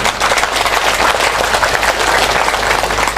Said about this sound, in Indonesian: tepuk tangan tidak terlalu kuat karena belum makan siang